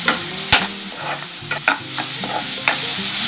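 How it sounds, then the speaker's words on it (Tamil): Onions sauté with salt in a pan for banana-flower poriyal, a steady close sizzle broken by sharp spatula scrapes and stirring knocks at irregular intervals, with no voices. "உப்பை போட்டு வதக்கினோம்னா இந்த வெங்காயமும் கொஞ்சம் நல்லா வதங்கும்."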